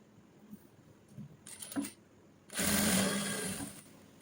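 Sewing machine stitching lined cloth, with quiet handling noises and brief bursts early on, then a steady whirring run of stitching lasting over a second, close and moderately loud.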